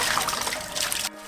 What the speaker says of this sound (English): Saiyok is smart and already figured out she can drink from the hosepipe by herself.